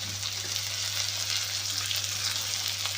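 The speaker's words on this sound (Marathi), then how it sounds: "आता हे आपण छान परतून घेऊया. तर आपण परतून घेत आहोत." Two chopped onions dusted with turmeric sautéing in a pan for kanda poha, a faint, even hiss of frying held steady for a few seconds over a low hum.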